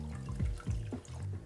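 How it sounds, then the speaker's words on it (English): A pint of Grease-B-Gone drain cleaner being poured into a bucket of water, with sloshing, gurgling liquid sounds close by over a low steady background. "I'm just going to pour my pint of Grease Be Gone in."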